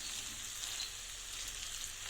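Pasta noodles sizzling in a pan as they are stirred, a constant close frying hiss with no voices.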